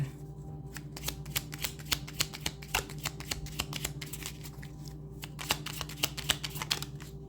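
Cards being handled and drawn from a deck during a card reading, producing a quiet, rapid series of soft flicking and riffling clicks that continue steadily throughout, close and faint, with no talking.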